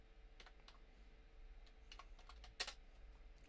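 Quiet one-handed typing on a computer keyboard, a run of soft, irregular clicks with one sharper, louder key strike near the end, over a low steady room hum.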